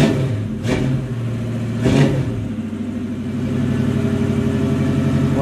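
A car engine revving while still cold, two sharp throttle blips early on, then a steady rumbling idle that rises slightly toward the end, heard up close from behind the car.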